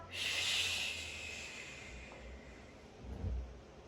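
During a Pilates roll-up, a single strong, close breath is pushed out in a hissing rush at the start, then fades, followed by a softer, lower breath near the end.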